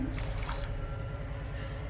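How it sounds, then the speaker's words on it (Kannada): Water splashes and trickles steadily for a couple of seconds, about a glass of water poured close by into a cooking pan, with a low hum underneath. "ಈಗ 1 ಗ್ಲಾಸಷ್ಟು ನೀರು ಹಾಕ್ಕೊಂಡಿನಿ."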